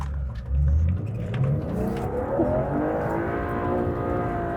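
A rare manual-swapped BMW accelerates hard on a road while its limited slip differential is tested, the engine note climbing steadily in pitch with a loud, sustained throaty roar and no talking.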